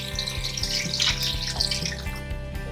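Water poured from a tap into a pressure pot holding cow heel, a steady splashing rush with a low hum beneath.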